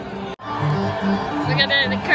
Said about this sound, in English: Look at that, the crowds went wild.